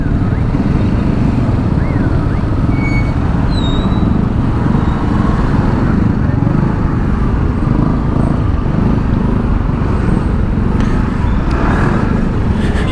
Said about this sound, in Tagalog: So grabe, malala yung traffic kahit sa mga motorcycle lane